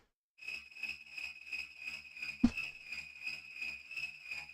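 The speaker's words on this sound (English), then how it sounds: "So like I made a cricket patch." Synthesized cricket sound patch chirping in a steady rapid pulse, bright and shrill, with a single sharp thump partway through, fairly quiet and without any voice.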